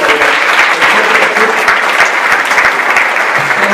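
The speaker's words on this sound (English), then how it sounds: "So let's just give one more round of applause for everybody." A packed audience at a Catholic talk in Philadelphia gives a round of applause, with loud, dense clapping sustained evenly throughout and no speech over it.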